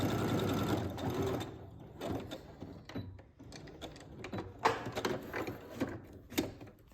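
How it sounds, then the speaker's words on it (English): Sewing machine stitching a straight seam across a sunglass case lining, a close, quiet mechanical whirr in short bursts with pauses between runs. "we're gonna sew straight across here"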